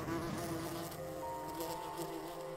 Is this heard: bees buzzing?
yes